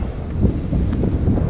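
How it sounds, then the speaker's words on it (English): Strong wind on a walking track in Western Australia roars as a constant low rumble and buffeting against the microphone, loud and unbroken throughout. "Very windy."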